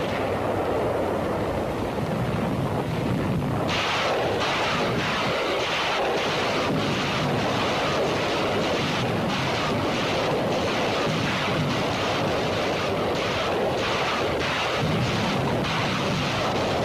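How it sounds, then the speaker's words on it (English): WW2 naval bombardment by US 7th Fleet and Royal Australian Navy warships off Tarakan, Borneo: a constant roar of wind and surf, with a rapid series of sharp, repeated blasts rolling in after the first few seconds. "Navy films of the four-day naval bombardment by warships of the United States 7th Fleet and the Royal Australian Navy"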